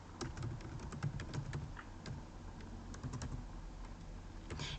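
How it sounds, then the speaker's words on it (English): Typing on a computer keyboard while entering data into an Excel spreadsheet, a close, steady patter of quick key clicks with occasional louder keystrokes, heard alone with no talking. "And as you can see, when I'm typing"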